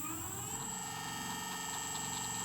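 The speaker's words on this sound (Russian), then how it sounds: "Вот это основной подшипник." A worn MXUS 350 electric hub motor whirs steadily, spinning with a dense whining and grinding hum that stays constant and close throughout.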